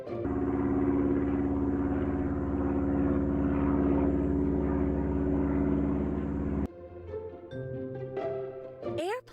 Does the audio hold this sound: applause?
no